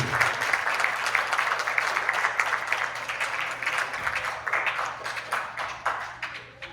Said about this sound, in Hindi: एक बार जोरदार तालियां शिल्पा जी।